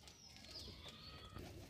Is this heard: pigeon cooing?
yes